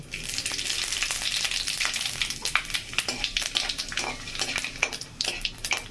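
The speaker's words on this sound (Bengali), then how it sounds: "তার মধ্যে দিয়ে দেব একটু পাঁচফোড়ন" Panch phoron spices with bay leaf and dried chillies sizzle and crackle in hot oil, with a steady dense hiss broken by sharp popping ticks and the scrape of stirring, close and continuous without any voices.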